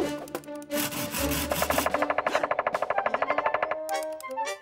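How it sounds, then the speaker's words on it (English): A cartoon woodpecker pecks rapidly at logs, a fast rattling series of sharp wooden knocks in a steady rhythm, close and clear, with a brief scraping sound before it and chirps after. "Why does it keep banging its head against the logs like that? I believe this is a woodpecker."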